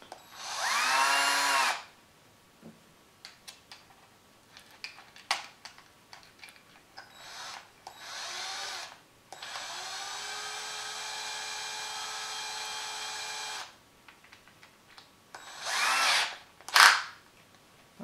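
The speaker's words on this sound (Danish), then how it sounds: "Så prøver vi boremaskinen." A power drill with a star bit is run against a Samsung Galaxy Alpha phone screen, whining in repeated bursts of varying length, including one long steady run, with clicks and quiet gaps between, close and fairly loud.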